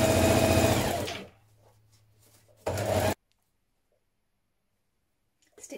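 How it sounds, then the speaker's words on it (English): A sewing machine runs in a fast burst while stitching the shoulder seams of a dress lining, catching in the facing. A low hum follows, then a second short burst of stitching, then quiet. "Now you can stitch down your shoulder seams of your lining, your front and back lining pieces, and you're catching in the facing here."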